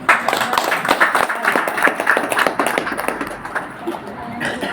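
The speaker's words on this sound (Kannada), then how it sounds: "ಅವಳಿಗೆ ಚಪ್ಪಾಳೆ" A small crowd claps for a student being honoured at an award ceremony for good school-leaving exam marks, a brisk irregular patter of hands at moderate distance, with a voice speaking briefly.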